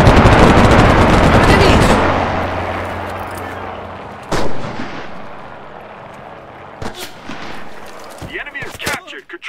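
Loud, dense gunfire and explosions from the Enlisted video game on the Chateau du Bosq map fill the first seconds, then thin to scattered single shots and blasts, with some voice underneath.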